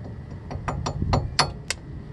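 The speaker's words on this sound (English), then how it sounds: "you can just tap it a little bit. I will do with the sharp edge of the hammer," Metal taps from the sharp edge of a hammer knocking a broken wheel stud out of a Gen2 Toyota Prius hub, about six short, sharp strikes in an irregular rhythm, close and fairly light, with no talking.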